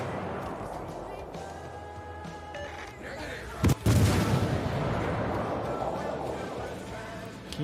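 Naval gunfire in World of Warships Legends, with sharp cannon blasts around the middle over a steady roar of battle and engine noise, a voice talking throughout.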